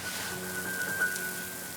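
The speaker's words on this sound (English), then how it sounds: "On the way to the park, it started to rain. Oh no, it's raining." Rain falling in a kids' TV show, heard as a steady, fairly close patter and hiss of drops on a surface with no voices over it.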